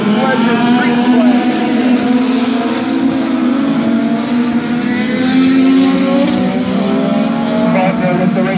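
Legends race cars roaring at Midvale Speedway: a steady, loud, droning engine note with rising harmonics from the pack at full throttle, sustained the whole time with no pause.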